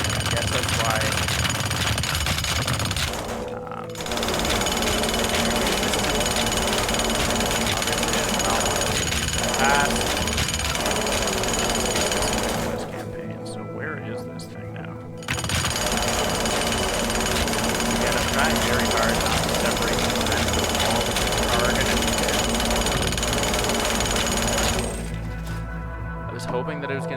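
Loud, continuous jackhammering breaks through walls in the game Teardown, with steady pounding and gritty debris clatter through most of the stretch and a couple of brief pauses. Talk runs over it.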